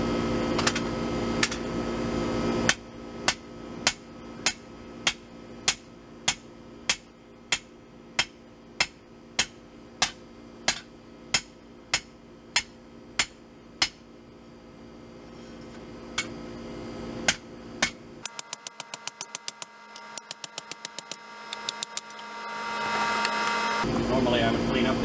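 A hammer strikes an orcish battle axe on an anvil in sharp, evenly spaced metallic blows, about twenty steady hits, then a quicker burst of lighter rapid taps near the end.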